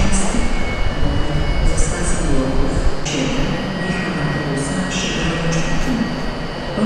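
An EP08 electric locomotive-hauled train at Wrocław station, with a steady rolling rumble and faint high metallic tones under station ambience; no clear locomotive sound stands out.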